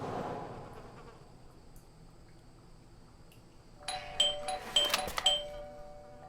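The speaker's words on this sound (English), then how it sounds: "I thought I should use the doorbell, so I wouldn't startle you" A doorbell buzzes in the video game Blues and Bullets: a bright, harsh electric tone rings in a few short bursts after a stretch of near silence.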